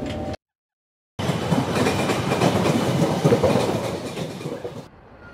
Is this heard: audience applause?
no